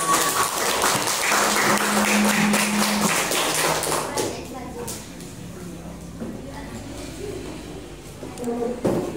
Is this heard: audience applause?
yes